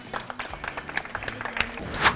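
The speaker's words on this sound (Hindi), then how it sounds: "तो एक बार उनके लिए तालियां हो जाएं" A small crowd at Centrum Mall clapping for the winning team of a quiz contest, uneven, scattered claps that are fairly close and moderately loud over about two seconds.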